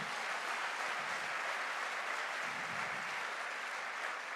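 Audience applause at a direct-selling motivational event, a dense, steady wash of clapping that holds at an even level throughout, with no voices standing out.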